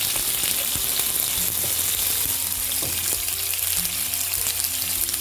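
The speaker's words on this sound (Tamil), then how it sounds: "கருவேப்பிலை போட்ட பிறகு வெங்காயம் போடுறேன்" Chopped onion and curry leaves frying in oil in a pan for a zucchini stir-fry, a steady loud sizzle throughout with faint clinks now and then, no voices.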